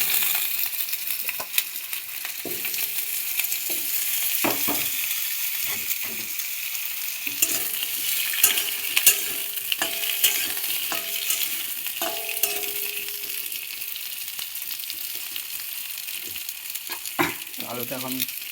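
Potato pieces fry in hot oil, a steady close sizzle running the whole way with scattered clinks and scrapes of a utensil stirring the pan, and a few brief voices in the background.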